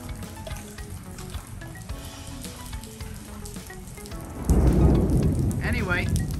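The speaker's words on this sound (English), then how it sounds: "Anyway, got stuck in the rain today." Steady rain falling outside a Publix supermarket in Plantation, a continuous hiss with rumbling, that grows suddenly heavier and louder toward the end, fairly close.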